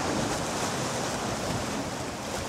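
Rough sea waves wash against the shore as a continuous, fairly loud broadband rush with no distinct individual breaks and no talking.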